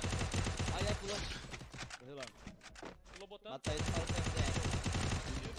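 Rapid gunfire bursts crackle through loud, dense game audio, with voices talking over the action and a brief lull in the middle.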